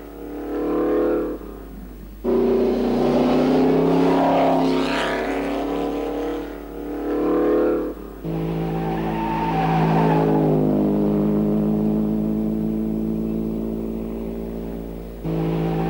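Vintage racing cars cornering at Copse, their engines droning loudly in overlapping harmonic tones that swell and fade as each car passes, with steady engine noise throughout and no talking.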